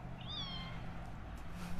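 A single kitten meows once, a short rising-and-falling cry near the start, heard close over a steady low background hum.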